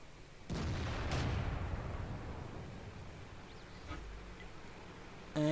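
Tank gun fire in World of Tanks from a Type 64 light tank on the Murovanka map: a couple of loud booming shots close together early on, then a quieter distant report, over steady engine rumble.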